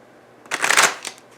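Lenormand cards being shuffled in a short, crisp riffle of about half a second, close and clear, with no voices.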